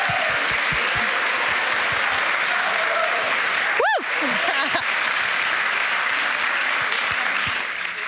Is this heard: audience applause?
yes